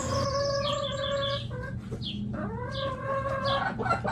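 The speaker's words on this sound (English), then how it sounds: "H for hen." A hen clucks and squawks repeatedly up close, with short broken calls in an uneven rhythm and farmyard background.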